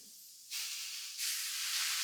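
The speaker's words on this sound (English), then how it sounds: "I love that sizzle." Brussels sprouts sizzle in a hot cast iron pan after a splash of balsamic vinegar, a loud close hiss that jumps up suddenly and then surges again even stronger, with no voices.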